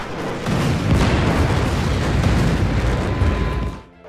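Air raid explosion sound effect from a 1971 Pakistani air force attack on the Srinagar air base, a dense, loud, rumbling roar of blasts lasting several seconds before it cuts to near silence.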